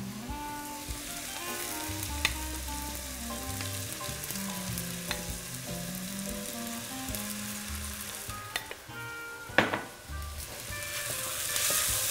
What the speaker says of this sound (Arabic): فراح اضيف العدس دغري على البصل